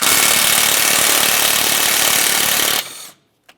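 A power tool, likely an impact wrench, hammers steadily on a 12mm strut mounting nut seized to its stud on a Mitsubishi Lancer front strut, loud and continuous for nearly three seconds before cutting off, followed by a faint tap.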